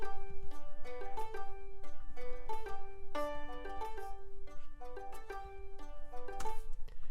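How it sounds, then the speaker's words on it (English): Indie folk plucks from the Hearth and Hollow VST plugin, playing a bright, rhythmic pattern of short repeated notes over a low, steady bass layer, with no talking. "we have these plucks that are coming from the Hearth and Hollow"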